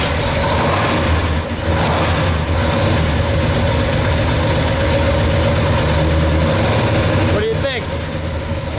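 A 1970 Oldsmobile 442 W-30 convertible with a 455 V8 rumbles loudly at close range, its deep, steady idle filling the whole stretch, with a brief sharper burst near the end.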